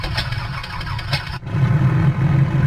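An Edgley EA-7 Optica engine in Microsoft Flight Simulator: a whirring starter cranks with a rapid pulsing rhythm, then cuts off briefly before the engine catches and settles into a steady, loud, low running drone.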